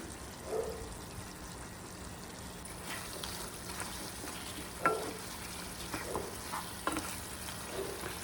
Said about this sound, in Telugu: ఇప్పుడు కారం, పసుపు, అలాగే ధనియాల పొడి ఇవన్నీ వేసుకొని ఫ్రై చేసుకోవాలి.